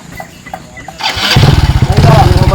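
A motorcycle engine cranks and catches after a second of quiet, then settles into a loud, close, rapid putter; voices talk at the start.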